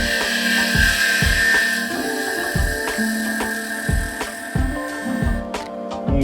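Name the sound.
lathe turning Osage orange wood and resin pen blank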